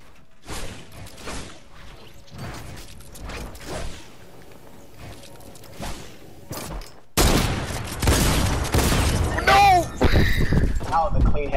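Rapid bursts of gunfire from the Fortnite video game crackle in quick volleys, soft at first and then much louder and denser, mixed with clattering game effects while players talk over the action.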